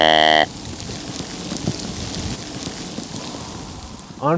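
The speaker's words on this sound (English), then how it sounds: "the sleet was hitting and making a lot of noise" Sleet hitting the ground and surrounding cover in a field beside timber during a late-season hunt, a steady fine hiss and patter that runs on without talk, with brief louder sounds at the start and end.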